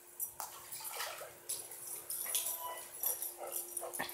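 Dogs swim and splash in water, with choppy sloshing and scattered splashes throughout and an occasional small whimper, fairly close and unaccompanied by talk.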